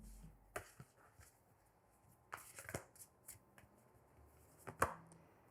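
A spellcasting oracle card deck is shuffled by hand, giving quiet, close riffles and sharp card slaps in short irregular bursts over a hushed background, with no talk.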